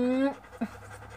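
A sick dog pants briefly up close, starting with a short whine-like tone.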